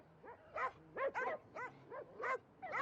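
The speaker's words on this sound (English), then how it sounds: "I've never heard so many dogs." Many dogs bark in a series of about six loud, close, overlapping bursts, with some whimpering yelps mixed in among them.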